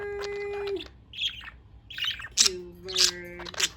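A pet budgie parakeet chirps and tweets in short, bright bursts at close range, with a few squawky calls between quieter pauses.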